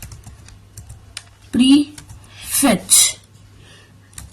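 Typing on a computer keyboard on a Windows 10 PC: a few close clicks, then two short bursts of rapid keystrokes, with a faint steady hum underneath.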